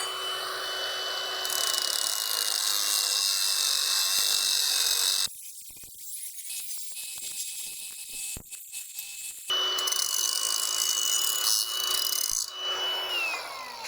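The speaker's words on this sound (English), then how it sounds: "a nice robust disc that'll cut and grind without actually damaging the disc itself" Angle grinder with a robust combination disc cutting and grinding steel in a metal shop, a loud sustained high-pitched whine and rasp that drops and changes midway, then resumes with a steady grinding screech.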